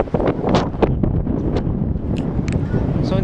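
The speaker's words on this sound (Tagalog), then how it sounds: "Kasi malakas na yung hangin dito eh. Sobrang lakas na ng hangin." Strong wind blowing at Abra de Ilog port in Occidental Mindoro, a steady broadband rush with buffeting gusts across the microphone throughout, mixed with scattered background sounds and faint voices.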